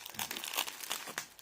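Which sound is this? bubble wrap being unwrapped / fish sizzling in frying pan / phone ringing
bubble wrap being unwrapped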